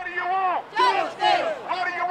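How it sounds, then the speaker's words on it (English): A crowd of marchers at a civil rights rally chants in loud unison, with rhythmic shouted phrases rising and falling in repeated bursts close by. "This crowd marches down US 1 for several blocks to the federal courthouse where they want to see change"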